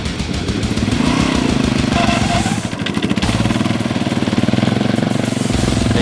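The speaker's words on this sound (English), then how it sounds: "Making my four-wheeler make noise, you know it's a problem. Give it gas." A four-wheeler engine with a loud, rough, rattling note revs and pulses up close, the throttle blips turning into a choppier beat midway through.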